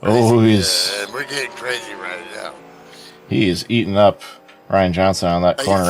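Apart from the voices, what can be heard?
No everyday noises stand out.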